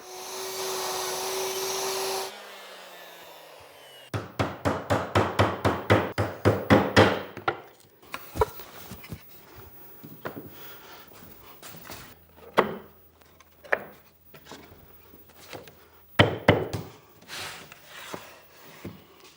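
Router fitted with a pattern bit cuts a mortise in wood for a Japanese-style end table: a steady loud whine, then a rapid run of rhythmic cutting bursts, trailing into scattered knocks and short clunks.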